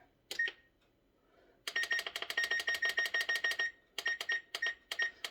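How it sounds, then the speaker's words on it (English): A kitchen timer beeps in rapid repeated bursts, a couple of short chirps first, then a long steady run of sharp electronic beeps followed by a shorter group, loud and close with no talking, while low carb granola cereal goes into the oven. "Timer."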